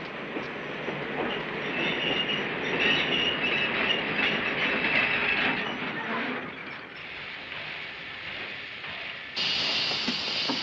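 A train rolls past nearby, a continuous rumbling rattle with clacking wheels and faint squeals lasting throughout.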